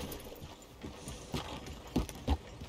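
Horse hooves clip-clop in Red Dead Redemption 2, an irregular run of soft thuds with a few louder strikes near the end, heard alone without talk.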